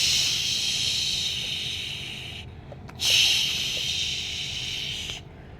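Pumpkin slices frying in hot, burning oil in a home kitchen, a loud steady hiss that cuts out briefly near the middle, then returns sharply and fades out near the end.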